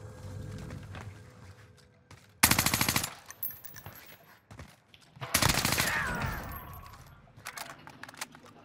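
Vargo 52 assault rifle fire in a Rebirth Island video game match, two loud rapid bursts of automatic gunfire, the second longer, with quieter clicks and handling sounds between and after.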